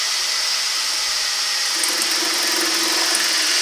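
A wood lathe spinning a beginner's bowl blank while a bowl gouge faces it off, giving a steady bright hiss and whir of cutting that runs unbroken throughout, loud and close.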